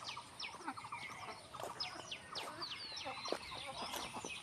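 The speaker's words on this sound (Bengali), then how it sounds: "দেখো ওরা কিভাবে ডাকছে আর বেরোচ্ছে" Ducks calling by a village pond in the morning, with busy overlapping quacks and chattering calls at close range, steady over a soft outdoor background.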